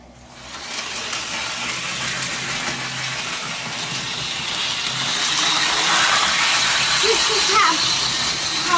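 A remote-control John Deere toy tractor train runs with a steady close mechanical whir and rattle that swells gradually louder, with a few faint chirps near the end.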